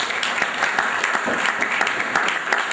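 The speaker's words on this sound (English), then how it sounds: "Let's give him another round of applause." Audience applause following a talk on creativity and motivation, a dense, steady wash of many hands clapping in a hall, sustained and fairly loud with no voices.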